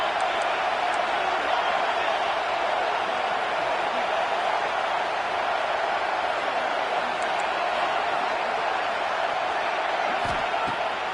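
Ohio State Buckeyes football crowd in a packed stadium on third down, a loud, steady roar of cheering voices filling the whole stretch, with faint whoops rising above the wash.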